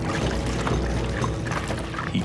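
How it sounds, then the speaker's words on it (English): Gasoline being poured out of a can, a steady liquid splashing and gurgling that runs close and continuous the whole time with no talking. "He pours gas."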